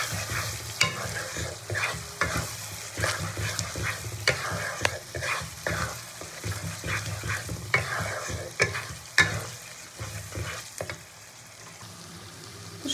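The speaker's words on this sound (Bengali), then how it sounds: "এবার খুব ভালো করে মশলাটাকে কষিয়ে নেবো" Spiced meat is stirred and fried hard in a pan, a close, steady sizzle broken by repeated scraping strokes of the spoon, with no voices over it.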